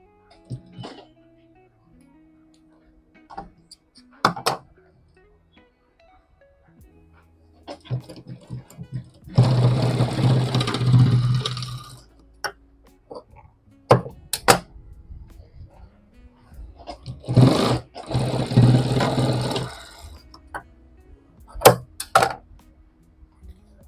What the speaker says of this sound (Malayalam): ആ കോണ രൂപത്തിൽ സ്റ്റിച്ച് ചെയ്യാണ്.